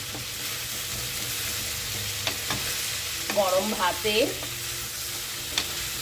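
Snake gourd (chichinga) sizzles steadily in a pan while a utensil scrapes and stirs with a few sharp knocks; a voice speaks briefly over the frying midway.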